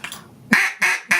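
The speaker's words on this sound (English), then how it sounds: "like that's normally what a duck will sound like" A duck call is blown in three short, loud quacks, each a sharp honk with a brief gap between, after a softer murmur at the start.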